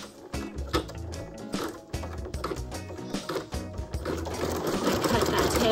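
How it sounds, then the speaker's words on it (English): Embroidery machine stitching an in-the-hoop glass slipper keychain, a loud close rapid mechanical chatter of needle strokes that runs steadily throughout, with voices talking over it. "here we go for our last stitch on the machine."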